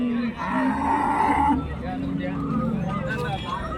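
Cows mooing nearby at a cattle market in Karimangalam, Dharmapuri district, a long low drawn-out moo followed by another, with some background murmur.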